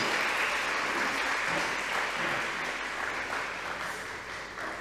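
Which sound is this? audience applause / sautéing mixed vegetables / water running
audience applause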